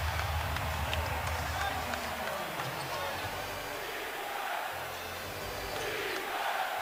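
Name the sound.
basketball arena crowd chanting defense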